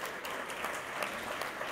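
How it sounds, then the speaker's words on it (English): Audience applause for board members at a Black History and Culture celebration program: a short, steady burst of many hands clapping across the room, with no voices over it. "so want to applaud them."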